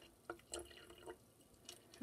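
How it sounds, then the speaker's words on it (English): Water trickles and drips into a container during a tabletop blood-model activity with plasma-colored liquid, heard as a few faint, scattered splashes and drops against a quiet background. "I'm just gonna pour all of my water in there, I guess."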